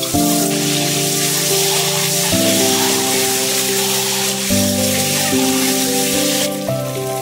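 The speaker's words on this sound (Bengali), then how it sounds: "কড়াইতে একটু হলুদ গুঁড়ো দিয়ে প্রথমে ডিমগুলো ভালো করে ভেজে নেব" Eggs frying with turmeric powder in a wok for chicken biryani, a loud, steady crackling sizzle with no voices.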